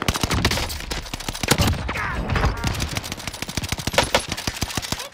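Rapid automatic fire from a BAR rifle in the Warzone battle royale game, a dense string of loud, closely spaced shots running throughout with heavy kick, no pauses.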